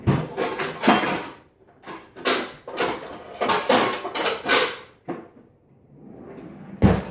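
A skillet is pulled out and handled among other pans in a home kitchen, giving a run of loud metallic clanks and knocks in quick bursts, then a pause and a final sharp clatter.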